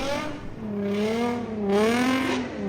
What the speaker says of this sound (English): Warming up my tires here for the first couple practice laps.